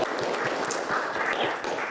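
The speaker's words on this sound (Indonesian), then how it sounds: "Ya, tepuk tangan untuk temannya dulu." Scattered applause from a classroom of students clapping for a classmate, a dense steady patter at moderate level throughout the short burst.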